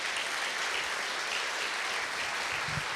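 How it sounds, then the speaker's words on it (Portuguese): A church congregation claps strongly and continuously, a steady wash of many hands filling the room for several seconds. "Bem forte as palmas para Jesus"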